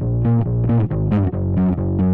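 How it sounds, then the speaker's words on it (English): A short, punchy bass line played in a cover, a run of distinct plucked, pitched notes with a slight effected tone, loud and alone with no voices. "Then a little bit of bass."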